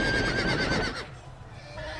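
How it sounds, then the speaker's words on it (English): Horses in the Telltale's Game of Thrones video game let out a loud, close whinny that trails off after about a second. Quieter ambience remains afterward. "Oh god, horses."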